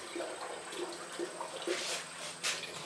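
Tap water running steadily into a container in a pottery workshop for recycling clay, a continuous close hiss and splash, with a faint tonal whine above it.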